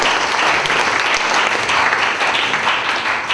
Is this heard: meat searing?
no